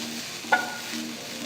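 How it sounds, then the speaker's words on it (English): Chopped capsicum, carrots and beans sautéing in a pan, a soft steady sizzle with a brief sharp scrape of a spoon stirring, close and alone. "Saute the vegetables for about 5 minutes."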